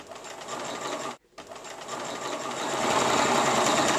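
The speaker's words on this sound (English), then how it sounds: "Beautiful, nice quiet machine. You can see beautiful stitch that it makes and how quiet it runs." A Bernina 1030 mechanical sewing machine stitches steadily for about four seconds, running at a close, even hum that breaks off once for a moment and then carries on slightly louder.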